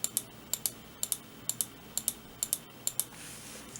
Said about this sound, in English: you can even tell by the click sound, it sounds a little bit more stiffer